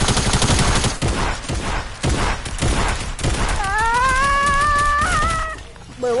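Automatic gunfire in a video game, rapid loud bursts of shots for several seconds, followed by a sustained high whining tone near the end, with no talk.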